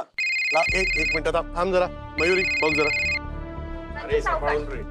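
A telephone rings indoors in two long, loud electronic trilling bursts, with people speaking over and between the rings.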